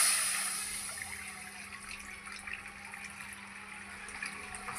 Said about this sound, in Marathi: आता ह्याच्यात मी पाणी घालते.